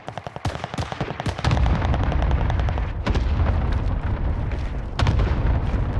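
Cluster strike explosions in the Warzone Pacific video game, preceded by a sharp burst of rapid gunfire, then a sustained, heavy roar of overlapping blasts with fresh booms near the three- and five-second marks, loud and close.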